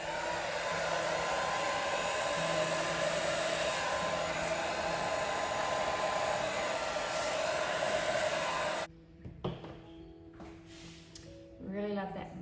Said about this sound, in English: Try the hairdryer again.